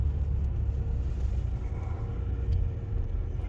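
A BMW 750d diesel engine gives a low, continuous rumble with slight swells in level, heard close and steady for a few seconds with no talk over it.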